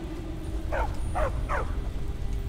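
A dog in the Skyrim video game gives three short, yipping barks in quick succession, set against a steady low game-ambience hum.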